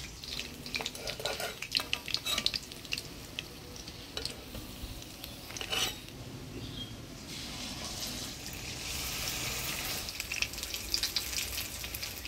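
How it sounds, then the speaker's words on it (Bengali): Ash gourd leaf fritters frying in hot oil give a soft, continuous sizzle with crackling bursts. The sound is faint and close, with occasional clinks of stirring. "এইভাবেই বাকি বড়াগুলোও ভেজে নেব।"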